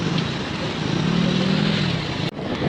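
A road vehicle passes close by in a local market area, a loud steady rush of engine and wind noise that swells and fades over a few seconds, broken by a sharp click near the end.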